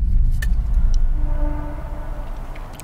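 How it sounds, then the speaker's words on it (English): A train rumbles past with a low, steady roar that slowly fades, a faint tonal whine drifting above it, and a few ticking clicks early on. "That's just a train."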